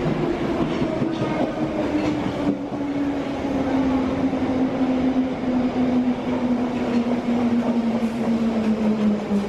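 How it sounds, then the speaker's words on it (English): A London Underground train in motion heard from inside the carriage, a loud continuous roar with a slowly falling whine and steady rumbling throughout, with no voices. "So here we are now on the London Underground line"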